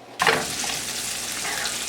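Wieners sizzle and fry in a pan, a loud steady crackle that starts abruptly and holds for the rest of the short stretch with no talking.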